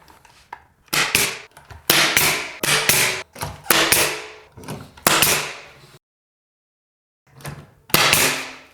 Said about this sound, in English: Now I'm going to push the trim up against the wall and tack it down.